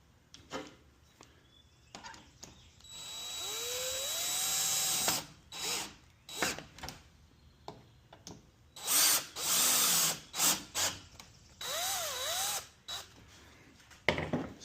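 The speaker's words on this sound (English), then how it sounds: "Since these are pre-drilled, I like to stick the screws through a little bit and then just sort of fit them into the old holes." A power drill drives screws into the supports of an Adirondack chair during reassembly, in a series of close, loud bursts whose motor whine rises and falls, separated by short pauses.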